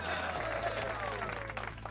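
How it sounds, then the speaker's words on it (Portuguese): Applause for a guest on a live cryptocurrency chart-analysis stream, a steady wash of clapping at moderate level that runs throughout with voices faintly mixed in and a low hum underneath. "Salva de palmas a ele"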